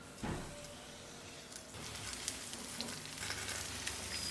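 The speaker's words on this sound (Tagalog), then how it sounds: "So, maglagay na tayo ng oil para makapagprito na tayo." Floured chicken frying in hot oil, a soft continuous sizzle that swells after a brief crackle and stays steady, close and fairly quiet.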